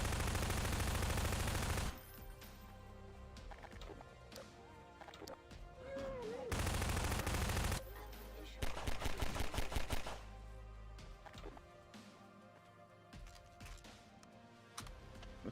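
SMG fire in Half-Life 2, with rapid bursts of automatic shots alternating with quieter gaps and a loud sustained stretch near the start and middle, close and harsh.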